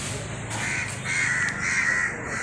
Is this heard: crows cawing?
yes